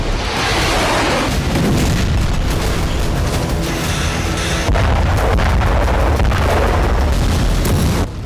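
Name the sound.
explosion from Ukrainian drone strike in news footage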